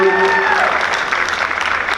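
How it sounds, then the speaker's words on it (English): An audience at a school parent appreciation night applauds the Teacher of the Year, a dense wash of clapping that swells as a voice fades out at the start. "Can we give a round of applause to our Teacher of the Year, Ms. Martinez?"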